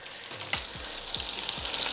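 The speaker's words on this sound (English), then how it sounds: "So because we're shallow frying" Greek zucchini fritters, kolokithokeftedes, shallow fry in oil with a bright continuous sizzle and crackle, while a few soft low knocks of utensils sound in the pan.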